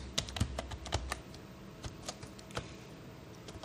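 Rapid keystrokes on a computer keyboard while Java code is entered, a close, steady run of clicks that starts in quick bursts and then thins to scattered single taps.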